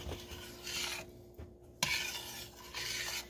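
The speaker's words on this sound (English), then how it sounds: "And you're going to stir this just a little, so the sugar can start dissolving." Blueberries and sugar stirred in a pot, with soft scraping and rubbing strokes that come and go, plus one sharp knock against the pot, quiet and close.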